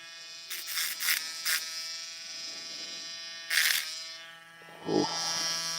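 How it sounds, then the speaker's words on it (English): A small electric rotary tool grinds lock key pins down, running as a steady high-pitched whine with several short, harsher bursts where the bit bites the metal, close and loud. "I'm trying to custom grind some key pins down"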